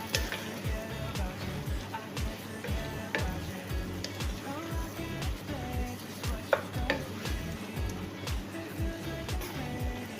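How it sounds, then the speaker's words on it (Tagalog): Potatoes for a leftover-food ulam topping are stirred in a pan with repeated rhythmic scrapes and knocks of a utensil, set over a low sizzle with occasional soft voices nearby. "ang ating patatas, then haluin natin"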